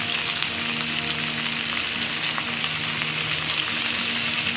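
Jackfruit for a Bengali dal-style dish sizzles steadily in hot oil with salt and turmeric powder, a close, continuous frying crackle without pause or voices.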